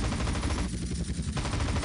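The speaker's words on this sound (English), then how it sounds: "L1 shoots machine gun." Hunter attack helicopter's machine gun in Grand Theft Auto: San Andreas, a dense, continuous rattle of rapid gunfire that stays loud and steady for about two seconds with no talk over it.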